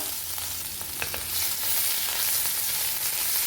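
Grated ginger and asafoetida fry in oil over low heat for a Rajasthani kala chana kadhi, giving a steady close sizzle with a few light stirring clicks early on.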